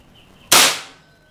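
A single sharp shot cracks from a Bocap Predator Tactical SAS 500 cc air rifle, a loud sudden report that decays quickly into quiet, heard alone.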